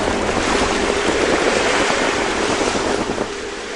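Ocean waves slap and wash against the hull of a small sailboat heeling under wind on a solo Pacific crossing, a loud, continuous roar of surf and spray mixed with wind buffeting the microphone.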